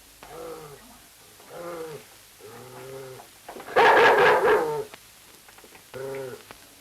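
A dog barks and yelps in short repeated bursts, several rhythmic calls with one louder, harsher outburst in the middle, fairly close and alone with no talking.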